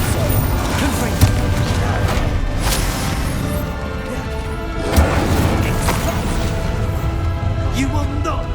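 Confringo spell blasts crack and boom through a Hogwarts Legacy boss fight, with repeated bursts over a dense layer of battle noise while a voice calls out spell names.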